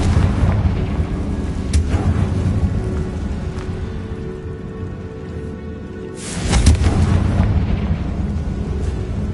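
A Confringo fire spell explodes in Hogwarts Legacy with a sudden burst partway through, set against a steady roaring, rain-like game ambience that swells again after the blast.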